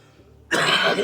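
After a moment of near quiet, someone in a Rwandan comedy sketch lets out one loud, close cough and throat clearing, a single harsh burst of about half a second.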